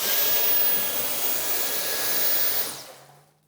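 A Dyson V10 Animal cordless vacuum running on boost mode while sucking up powder, a loud steady high-pitched whine and rush of air that holds for nearly three seconds, then winds down and fades out.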